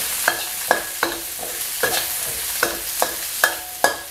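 Chinese kale stems stir-fried in a wok with chili and garlic, the spatula scraping in a steady rhythm of sharp clanks about every half second over a constant bright sizzle, close and fairly loud with no voices.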